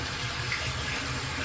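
Tap water runs steadily into a bathroom sink while a face is washed, making a continuous close splashing rush.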